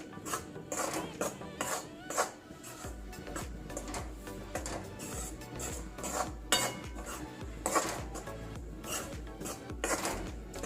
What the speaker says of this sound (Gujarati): લોટને આપણે મધ્યમ તાપમાને શેકવાનો છે